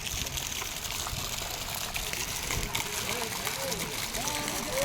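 Water splashing and gushing as feet are washed in a garden in Srinagar, Kashmir, a steady wash of flowing water close by with people talking over it.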